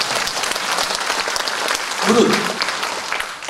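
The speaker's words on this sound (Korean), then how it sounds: "지금 박수 칩니다." Audience applause at a political party lecture in Bucheon, South Korea, a steady patter of many hands filling the room under a single spoken word from a speaker.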